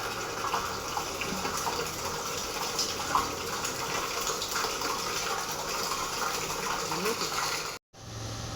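Water gushes steadily into a tank fitted with a float sensor, a continuous rushing pour heard close up with talking over it, before it stops abruptly near the end.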